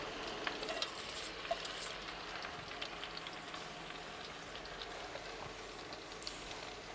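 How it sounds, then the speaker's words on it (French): Onions sweating slowly in fat in a covered pan, a faint, even crackle and patter of low sizzling that holds steady throughout, with no voices. "c'est cuire des oignons à couvert dans de la matière grasse jusqu'à ce que l'oignon soit confit"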